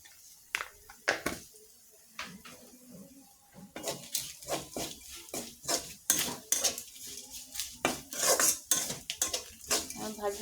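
Whole cumin seeds in a metal pan stirred with a utensil, giving repeated close scraping and clinking strikes against the pan, sparse at first and then dense and rhythmic, with a faint sizzle underneath.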